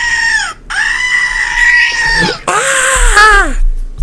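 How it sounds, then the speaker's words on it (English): A toy screaming-goat prop lets out three loud, strained, human-like bleats in quick succession, each a sustained wavering cry that bends down in pitch at its end, very close and alone. "A screaming goat."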